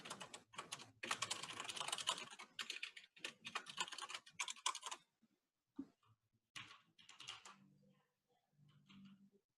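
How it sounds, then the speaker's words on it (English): Rapid bursts of close, faint keystrokes on a computer keyboard come in uneven clusters separated by pauses, ending with a few sparse taps. "He's typing away."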